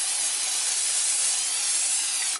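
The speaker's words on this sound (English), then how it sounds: "Then you want to spray it with some granola spray" Cooking spray hisses steadily from a can onto marshmallows laid out in a cooking pan, a close, continuous spray that cuts off abruptly at the end.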